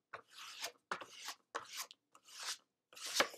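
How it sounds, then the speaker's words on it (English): Glue is rubbed out across craft paper for a keepsake box in five short, dry scraping strokes, close and quiet, each about half a second long with brief pauses between. "And then rub that glue out."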